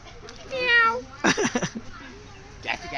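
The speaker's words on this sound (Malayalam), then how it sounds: "രണ്ട് ബ്ലാക്ക് കാറ്റ്സ്" Two black cats meow during a group trip to Goa: one drawn-out, wavering meow rings out clearly, followed by nearby people talking and a fainter second cry near the end.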